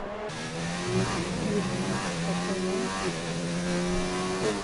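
Race car engine from the F1 2019 game at the Azerbaijan Grand Prix, a steady high-pitched whine rising and shifting through gears during a lap, loud and continuous with faint voices underneath.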